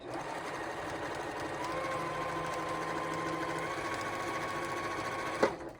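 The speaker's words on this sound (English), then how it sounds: "you take it over to the sewing machine and just make your 1/4 inch stitch" A sewing machine runs continuously as it stitches quilted Christmas stocking strips with a quarter-inch seam, a close, steady mechanical whir and rapid needle clatter that ends with a sharp click.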